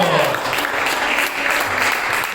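A crowd claps together in steady, dense applause, close and loud, continuing without pause.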